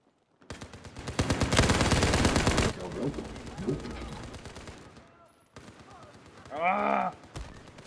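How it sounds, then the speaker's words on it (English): Light machine gun in Battlefield 4 fires a long, loud, rapid burst followed by scattered shorter shots and a final brief burst, with a player's shout heard near the end. "Who the hell has that light machine gun?"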